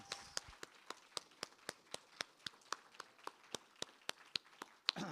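Steady, evenly spaced clapping from a faculty presentation audience, roughly twenty sharp claps in a regular rhythm that sounds like only a few hands, close and crisp with no voices.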